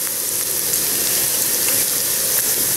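Onion and carrot frying in coconut oil and butter, a dense, steady hissing sizzle close up and fairly loud, with no talk.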